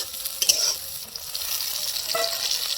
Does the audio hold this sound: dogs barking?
no